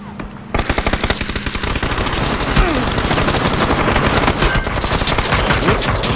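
Rapid automatic gunfire in PUBG: Battlegrounds rattles loud and close after a brief quiet start, then keeps up a dense, steady stream of shots to the end.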